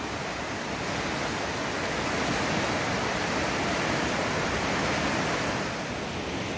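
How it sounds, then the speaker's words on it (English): A fast river rushes in the rain along a wet forest trail in Washington, a steady, loud broadband roar of churning water with no other sounds. "Look how fast it's rushing down there."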